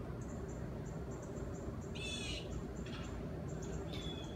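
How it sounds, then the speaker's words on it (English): Birds calling outside in the early morning, a few short chirps and a brighter call rising over a steady low rumble of background noise, mid-distance, no talking. "And I just thought I'd let you hear our little bird sanctuary out there."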